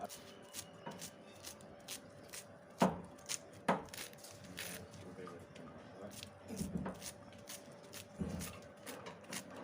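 A knife chops a banana flower repeatedly on a board in an irregular rhythm, with a few sharper cuts and faint voices in the background.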